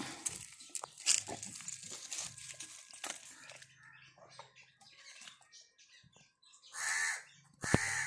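Several sharp crow caws ring out nearby from a nest in a tree, scattered between rustling and crinkling noises, with two loud calls near the end.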